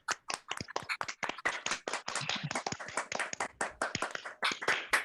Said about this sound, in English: Please take a bow and give Joan a round of applause.